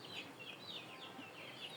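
Chickens clucking softly as they are let out of their coop at a rural home, a steady run of low calls close by with faint higher chirps over a quiet outdoor background.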